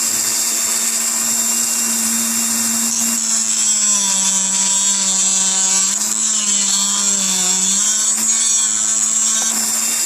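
A power tool cuts the head off a spent bullet shell casing, a steady high motor whine that holds for the whole stretch, dipping slightly in pitch as it bites into the brass, loud and close with no talking.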